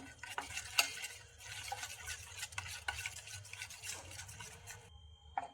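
Egg fry masala of turmeric with crushed ginger and garlic being mixed by hand or spoon, a close, steady wet stirring and squelching with a few sharper taps, no voices.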